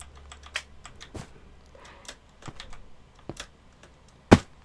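Keystrokes on a computer keyboard during a Minecraft game, sharp clicks tapped in short irregular bursts at moderate level with a louder stroke near the end, no voices.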